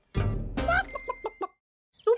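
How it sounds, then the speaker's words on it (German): A cartoon hen in her nest gives a few short, close clucks in quick succession, followed by a brief pause and one more cluck. "Frau Huhn, darf ich mal in ihr Nest sehen"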